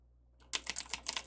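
Fingers tap quickly on a computer keyboard after a brief quiet moment, producing a close, irregular burst of clicking keystrokes.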